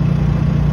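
Generator engine on a hybrid electric golf cart runs loud and close with the pedal floored, a steady droning mid-pitched motor note that holds without break through the short moment.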